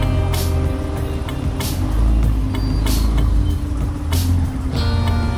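Heavy congested traffic on Old Agra Road in Bhiwandi during the first rain, a loud continuous rumble of buses and trucks idling and creeping, with repeated sharp hisses of air brakes.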